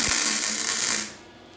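Short burst of crackling spatter from a welder tacking the top of steel frame rails, loud and close for about a second before cutting off into quiet.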